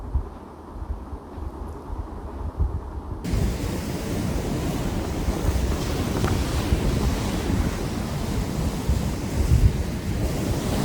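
Ocean waves breaking on a beach under a cloudy sky during a family outing, a loud continuous roar of surf mixed with heavy wind buffeting the microphone, quieter for the first few seconds before swelling up.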